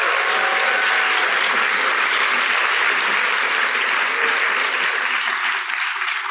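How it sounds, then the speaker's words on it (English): Sustained, dense applause from a large conference audience at a health policy keynote, loud and steady throughout before tapering slightly near the end. "So give him a big applause."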